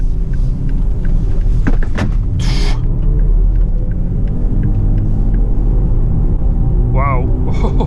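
A BMW iX3 electric SUV driving on 20-inch winter tires, a loud, steady low road and tire rumble with a few brief clicks and hissy bursts and a short squeaky sound near the end.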